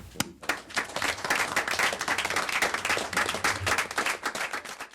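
Applause at a community lifesaver awards ceremony, a lively burst of many hands clapping at an even level throughout, with no talk over it.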